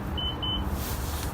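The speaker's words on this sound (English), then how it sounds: "one push is going to yield 2 beeps" Two short electronic beeps from a 2019 Nissan Murano SV as its key fob locks the doors, evenly spaced close together over a steady outdoor background hum.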